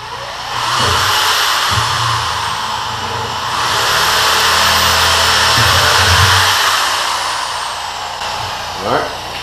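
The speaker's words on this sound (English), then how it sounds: "drill straight through" A power drill whines loudly as it bores through PVC pipe, its pitch rising and falling, with brief pauses and a few knocks in between.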